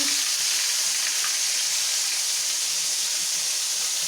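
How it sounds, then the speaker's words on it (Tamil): Ginger garlic paste sizzles and fries steadily in hot oil while being sautéed for a Sunday mutton tripe curry, a continuous close hiss with no pauses and no voices. "இஞ்சி பூண்டு பேஸ்ட்டு போடலாம்"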